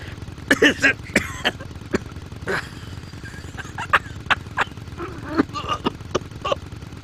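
Several short, rough throat-clearing and coughing bursts from the video game MadWorld, irregularly spaced over a quiet background.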